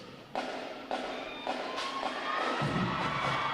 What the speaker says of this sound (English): welcoming the graduating divisions with your applause as they enter Midway Ceremonial Drill Hall